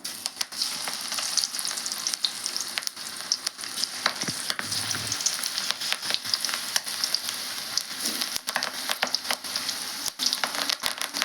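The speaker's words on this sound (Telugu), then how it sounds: "ఆయిల్ అయితే హీట్ అయిందండి. కొద్దిగా వదులుదాం మనము ఆయిల్లో." Okra pakoda batter frying in hot oil crackles and sizzles continuously up close, broken by sharp ticks and occasional stirring clatter, with no talk.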